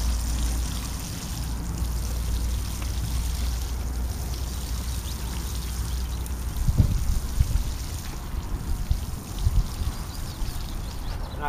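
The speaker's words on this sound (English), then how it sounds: "And just give them a good old watering in." Water pours from a can onto newly planted cabbage and broccoli seedlings on an allotment, a continuous trickling splash with a few louder gushes, no voices.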